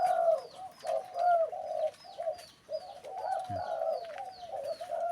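A dove coos repeatedly in a low, resonant rhythmic pattern, with small birds chirping faintly in the background.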